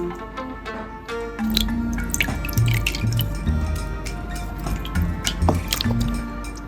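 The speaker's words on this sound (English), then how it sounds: "The pulp and fibers are gently lifted out of the water." Wet paper pulp and fibers lifted out of a water tub on a rectangular screen during home papermaking, water dripping and trickling back steadily with soft squishy splashes, close and continuous.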